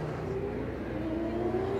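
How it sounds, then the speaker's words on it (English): Faint, steady engine hum from a Supercars race car at a street circuit event, a low droning tone that slowly climbs in pitch, heard at a distance under general crowd ambience. "Sounds like a supercar."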